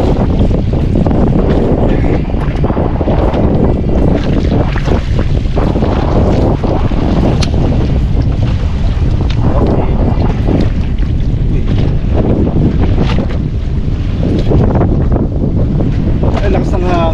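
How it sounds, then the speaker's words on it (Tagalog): Strong wind buffets the microphone on a boat at sea while out jigging, with waves splashing against the hull in a continuous loud roar that never lets up. "Ay, lakas ng hangin. Tsaka alon, no?"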